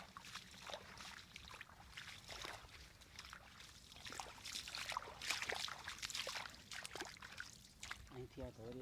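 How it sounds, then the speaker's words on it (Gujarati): Irrigation water trickling and gurgling softly along a field channel on a farm, faint and continuous, with people talking over it. "અહીંથી આ ધોરિયા થઈને પાણી આવે છે"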